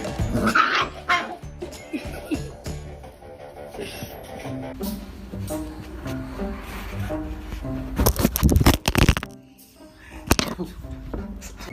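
A dog barking and yipping in short bursts at a home, mixed with music and noise, with people talking throughout.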